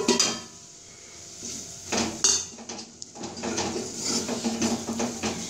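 Spice masala is sautéed in oil over a low flame for tomato rice, heard as a series of metal spoon scrapes and clatters against the pot over a faint sizzle, close and intermittent.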